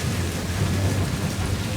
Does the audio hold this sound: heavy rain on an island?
yes